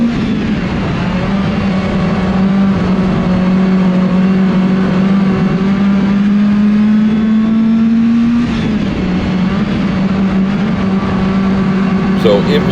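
A dirt race car engine on a clay track holds a loud, steady drone with a slowly rising pitch and a slight shift partway through, sustained close up for the whole stretch.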